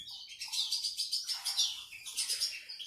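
Pet birds kept for breeding chirp and tweet in quick repeated bursts, fairly close and steady, with several calls overlapping and no talking.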